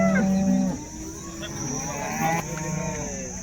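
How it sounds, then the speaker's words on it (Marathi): Jersey cows at a cattle market in Baramati moo loudly and close, one long low call at the start followed by further overlapping moos against busy market noise. "तर मित्रांनो पाहू शकता या क्वालिटीमध्ये गाई जर्सी गाई"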